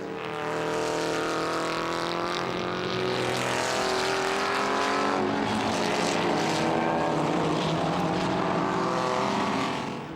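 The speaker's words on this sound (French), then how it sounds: "la Ford Cortina Lotus de Damien Koller, numéro" A Ford Cortina Lotus, car number 166, races on the Charade circuit, its engine roaring loud and steady throughout with shifting pitch as it drives past at close range.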